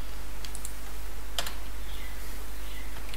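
Keystrokes on a computer keyboard while typing code, a few separate clicks and one brief cluster near the middle, faint and spaced out over a steady low hum.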